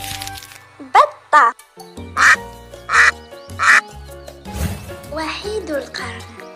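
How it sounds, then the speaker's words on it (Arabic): Several loud, nasal duck quacks come in quick bursts, some overlapping, then trail into a busier, muddled stretch of squawking near the end. "بطة،"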